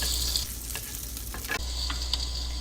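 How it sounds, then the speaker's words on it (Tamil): Garlic sautéing and being stirred in a pan, a close continuous sizzle with scraping stir strokes, no speech. "பூண்டு நல்லா வதக்கிக்கோங்க."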